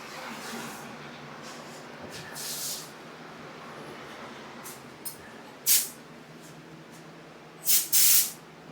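Paint spray gun applying color and clear coat to a Datsun 280Z, heard as bursts of airy hiss, with a short early spray and two loud close blasts near the end over a low background hum.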